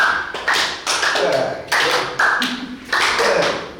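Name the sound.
hands clapping overhead during a yoga exercise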